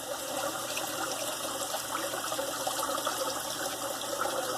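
Water running steadily from a tap during a wet shave while a shaving soap is being loaded on the hand, a constant close hiss with no talk over it.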